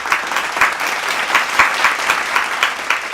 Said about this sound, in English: let's give a round of applause for Mr. Johnny Depp.